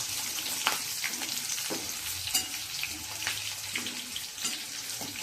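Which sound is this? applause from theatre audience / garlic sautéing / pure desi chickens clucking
garlic sautéing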